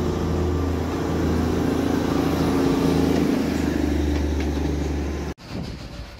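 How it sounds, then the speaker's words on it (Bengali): A toy train on the Darjeeling hill line passes close by as a steady, loud engine rumble with clattering, running for about five seconds before cutting off abruptly into quieter background. "here comes toy train number 2"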